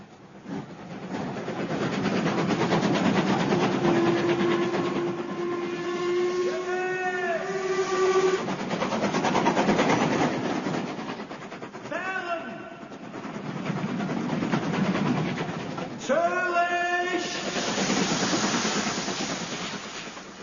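A train rolls along the rails with a steady rumbling clatter, broken by a few brief squealing tones, while someone narrates over it in a British crime drama.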